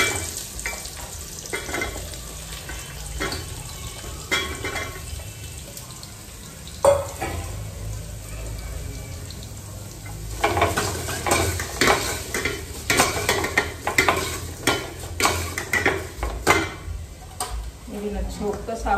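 Fenugreek tempering sizzles in a pan while a spoon stirs it, with steady frying hiss and repeated scraping and clinking strokes that grow busier toward the end, heard close in a home kitchen.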